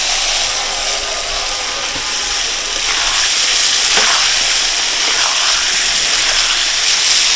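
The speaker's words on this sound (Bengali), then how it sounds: "মশলার মধ্যে মাছ দিয়ে খুব ভালো করে কষিয়ে নেব আস্তে আস্তে করে" Catfish (magur) being fried in spice paste in a wok (kadai), giving a steady, loud, close sizzle that runs throughout with no talking.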